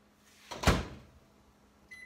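A microwave melting semi-sweet chocolate gives a single soft thump, like its door closing. After a pause comes a short electronic beep, in a quiet kitchen with no speech.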